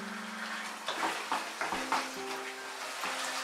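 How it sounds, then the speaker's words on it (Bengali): Mutton tossed with spices over a high flame for rezala gives off a steady sizzle, broken by several short scraping stirs of the pan, with a faint background hum. "মাটনটাকে হাই ফ্লেমে আমি 3-4 মিনিট কষিয়ে নিলাম।"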